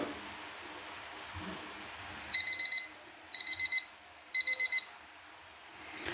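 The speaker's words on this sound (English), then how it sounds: "My alarm is blaring" An electronic alarm clock beeping in three short bursts, each a rapid run of shrill pulses, loud and close against near silence, with a faint sound at the very end.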